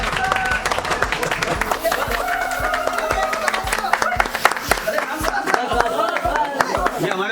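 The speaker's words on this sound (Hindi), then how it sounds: "वाह वाह ताली दो। ताली करो।" Students clap together in a classroom at a mobile phone repair training institute, a dense patter of many hands with voices talking over it.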